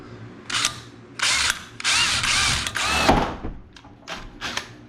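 A power drill bores a centering hole through a piece of aluminum cut from a radiator, in loud repeated bursts of whining spin separated by brief pauses, close and without talk.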